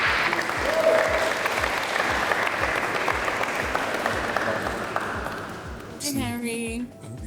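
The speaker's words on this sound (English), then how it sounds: "Round of applause for guy 15, please." A crowd at a speed-dating event applauds with sustained, dense clapping that slowly fades, and a short tonal electronic sound is heard near the end.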